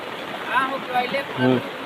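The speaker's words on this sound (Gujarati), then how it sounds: "આ હતું અમારા પોટેડાનું ડેમ પણ એ ફૂટીને ઉપર થઈને જતું રહે છે અને જો આ કેટલું બધું પાણી જાય" Heavy rainwater rushes over an overflowing dam at Dungra village in Sanjeli taluka, a steady, close broadband roar with people talking over it throughout.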